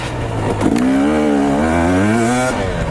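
A 250cc dirt bike engine revs hard on a trail, climbing in pitch through a gear change with a short dip and then a rising, droning roar, close and loud.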